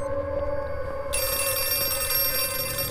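A telephone rings in the horror video game Outlast 2, a steady electronic ring with sustained tonal lines and a brighter burst partway through, heard alone without talk.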